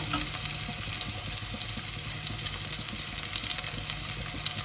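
Onion frying in hot oil in a home kitchen, producing a continuous dense sizzle with faint scraping and crackle throughout and no voices.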